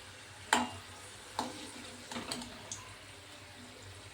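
Flour dumplings deep-fry in oil with a low, faint sizzle, broken by a few sharp clinks and scrapes of a spoon turning them, heard close with no talk.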